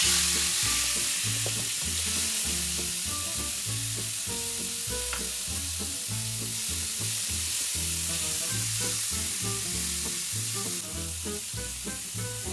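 Cherry tomatoes hit a hot frying pan in a garlic sauce for cod, giving a loud, continuous sizzle and crackle with some stirring, and no voice heard.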